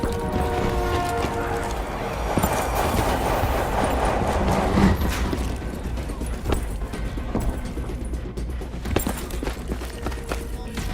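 A maglev train in the Black Ops 3 video game rushes past amid a dense, steady wash of mechanical rumble and clatter, loud and continuous throughout with sharp ticks and bursts layered on top.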